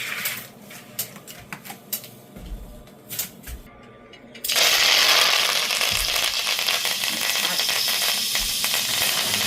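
Pork frying in hot oil in a pot, starting with scattered clinks and handling noises, then a sudden loud steady sizzle and crackle that holds close and constant to the end.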